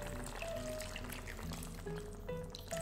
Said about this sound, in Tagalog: Tubig na lang yung gagamitin natin.